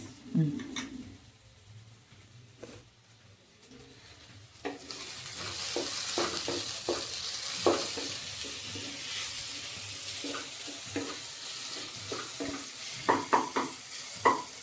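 Green chillies sautéing in an oil-filled pan for biryani, with a steady sizzle rising after a few seconds and scattered scraping and clinking as they are stirred, loud and close throughout.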